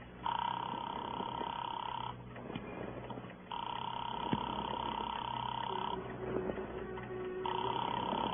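A telephone in an old radio drama rings or buzzes in repeated steady tone bursts with short gaps between them, fairly faint, while voices murmur quietly underneath.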